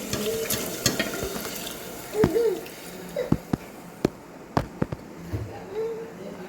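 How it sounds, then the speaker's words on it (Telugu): Boiled mutton pieces dropped into cooked tomatoes in a pot for a mutton curry: a low simmering sizzle under a string of sharp spoon knocks and clinks against the pot, close and moderately loud, with brief scraping. "ఇప్పుడు బాయిల్ చేసినటువంటి మటన్ ముక్కల్ని ఇందులో వేసేద్దామండి"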